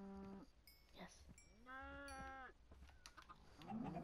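Cows moo in Minecraft: PlayStation 4 Edition, with several short low calls and one longer drawn-out moo, faint and overlapping alongside other farm animal sounds in a pen.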